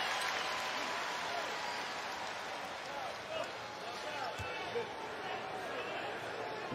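A live basketball crowd at a Lakers home game against the Rockets roars steadily throughout, a dense wash of cheering with a few sharper bursts and a commentator speaking over it.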